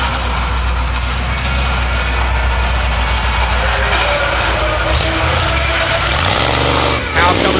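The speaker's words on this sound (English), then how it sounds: "The High Horse Monster Bronco, powered by a 460 cubic inch fuel-injected Ford engine." The High Horse Monster Bronco monster truck, powered by a 460 cubic inch fuel-injected Ford engine, roars loud and steady at an arena show with a deep engine rumble, while an announcer talks over it.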